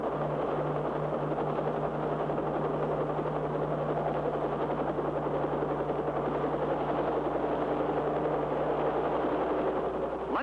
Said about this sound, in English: This tiny control stick can fly the pilotless copter in any direction.